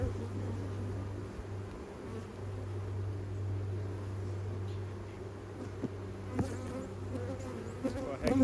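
Honey bees buzz steadily at an open hive during a spring inspection, a low continuous drone close by with faint handling knocks near the end.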